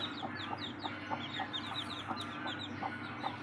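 Hens cluck steadily near newly hatched chicks, whose repeated high peeps dot the scene in a quick, even rhythm around a farmyard setting.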